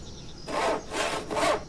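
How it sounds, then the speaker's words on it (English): A villager saws wood in the Viking settlement-building game Land of the Vikings, giving three rasping back-and-forth strokes at a steady rhythm, moderately loud and heard alone. "There she is, sawing away."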